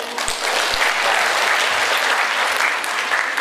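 Audience applause at an Islamic inspirational talk show event in Semarang, a steady dense wash of clapping from a large crowd, loud and sustained throughout with no talking over it.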